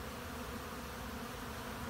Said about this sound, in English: A few bees came in, and look at that. They know I have honey here